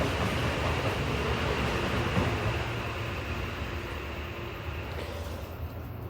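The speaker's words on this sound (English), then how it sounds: "Man, trains going past every 10 minutes, y'all." A train rumbling past a railway tunnel in New Zealand, a steady broad roar of wheels and carriages that holds loud throughout and eases slightly toward the end, with no voices.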